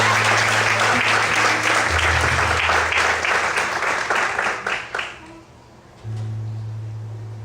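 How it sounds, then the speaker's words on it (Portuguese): A church congregation applauding loudly and steadily for about five seconds before the clapping tapers off, with a low sustained organ-like tone underneath. "Você pode aplaudir ao Senhor nessa noite?"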